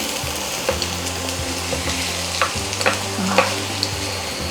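Onions frying in chili and chorizo oil in a pan, a continuous crackling sizzle with repeated stirring scrapes, close-up, under a low steady hum from a kitchen appliance, no talking.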